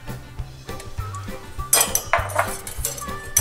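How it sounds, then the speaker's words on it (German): A whisk beats egg yolk with a splash of milk in a bowl, giving quick rhythmic clinks and scrapes of metal against the dish that grow busier and louder midway, with no talking. "Und verrühren das erstmal im Schneebesen."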